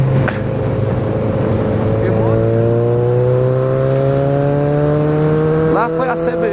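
Honda CB300 motorcycle accelerating away on a wet road, its engine note climbing steadily with clear rising harmonics, loud and close, then pitching up as it pulls off, with faint talk in the background.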